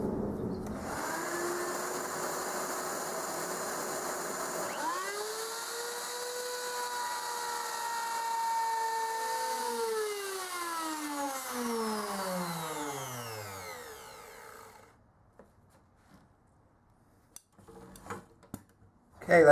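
A power tool cuts a dado into the bottom of a wooden battery platform for a drill charging station, a loud sustained whine that slowly drops in pitch as the blade winds down, followed by quiet and a few clicks.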